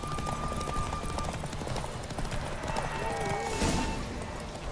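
Rapid hoofbeats of a galloping horse drum steadily under a busy mix in the video game The Witcher 3, with a brief whinny near the end and talk overlapping.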